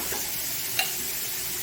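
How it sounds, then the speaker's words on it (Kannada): Vegetables and red poha frying in ghee in a pan, a steady soft sizzle with a brief stir-like clink near the middle, no voices. "ಸಣ್ಣ ಚಮಚದಷ್ಟು ತುಪ್ಪದಲ್ಲಿ ಇದನ್ನು ಫ್ರೈ ಮಾಡ್ಕೊಳ್ಳೋಣ."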